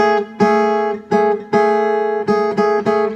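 Clean guitar notes plucked one after another, two pitches a seventh apart alternating in a short sequence of about seven plucks, close and clear with no talking.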